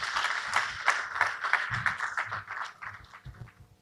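A scattered round of applause from an audience at a Black Learner Excellence Summit at City Colleges of Chicago, moderate claps rising and thinning out over a few seconds, with some low murmuring beneath.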